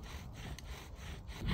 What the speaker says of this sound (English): This is just a process of bedding the drill and the baseboard together.